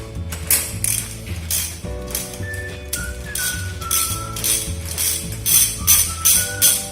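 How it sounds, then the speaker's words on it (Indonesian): Ratchet handle with a 17 mm socket removing clutch bolts on a torqflow transmission, with a loud continuous run of close, rapid ratchet clicks and some squeaky metallic tones. "Kita dapat melepas menggunakan bantuan alat rigid handle dengan ukuran"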